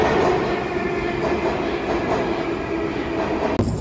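A Saint Petersburg metro train rumbles loud and close with a steady roar and faint rail clatter for the whole stretch, with no talk over it.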